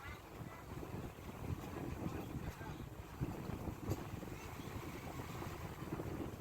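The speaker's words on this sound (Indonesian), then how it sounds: "Nah itu sebenarnya ombaknya lumayan tuh teman-teman, kapalnya juga kecil jadi lumayan goyang-goyang." A small boat rocks across choppy sea waves between islands in the Meranti archipelago, with a steady rumble of water and wind buffeting the microphone throughout.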